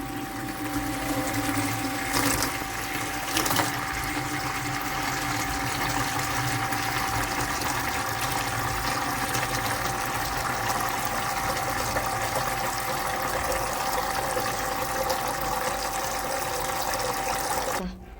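Hot water gushes steadily into a basket set up for washing clothes, a continuous loud rushing flow with a faint pump-like hum underneath, lasting unbroken for around eighteen seconds before cutting off.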